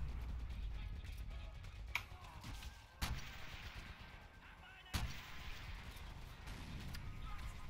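Booming gunshots and explosions in the World at War video game, several sharp blasts a second or two apart over a continuous rumbling battle background.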